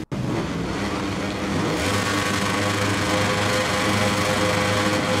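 Motorcycle engines roar in the MotoGP 21 racing game as a wet race gets underway, a loud, sustained buzzing drone that swells slightly after a short opening and holds steady with no voices.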